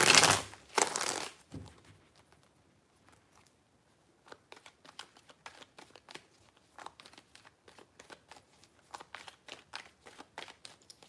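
Tarot cards being shuffled by hand, a quick burst of crisp riffling at first, then a long run of soft, irregular card flicks and slides, close and quiet with no talk.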